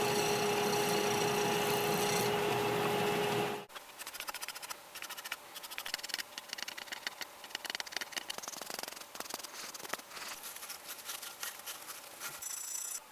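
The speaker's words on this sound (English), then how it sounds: "now I'm starting to get some wood shavings" Wooden wok spatula handle being turned, shaving wood: after a loud steady machine hum cuts out, close, continuous scraping and rasping of the cutting tool follows, with light irregular scratches.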